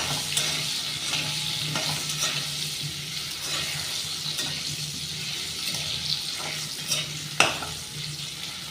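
Potatoes fry in oil in a wok, a steady loud sizzle with bursts of stirring and scraping throughout, no voices.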